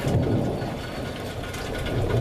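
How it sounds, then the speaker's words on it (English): Outdoor rain falling steadily with low thunder rumbling in the background, at a junkyard during a wet April day. "You can probably hear the thunder in the background."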